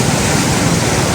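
Floodwater from a breached dam in a 2025 flood roars through gates raised fully open, a loud, dense, unbroken rush that fills the whole moment with no voices.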